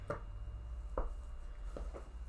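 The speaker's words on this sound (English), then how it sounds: "go through and just chop some little pieces of butter" A knife chopping butter into small pieces on a board: four soft, close thuds at an uneven pace over a low, steady hum.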